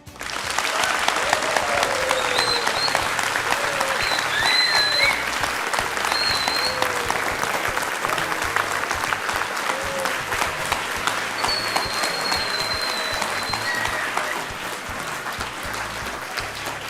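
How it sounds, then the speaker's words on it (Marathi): A studio audience at a Marathi courtroom-style talk show gives Union Minister Hardeep Singh Puri a long, sustained round of applause, dense and steady throughout with only faint crowd voices beneath. "आणि या टाळ्या अशाच वाजत राहू देत"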